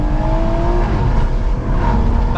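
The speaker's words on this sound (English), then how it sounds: "Let's get a window down, just flatten the throttle." A tuned 450bhp BMW M140i with a 3-litre turbo engine roars at full throttle, loud and continuous with a rising drone heard from inside the car.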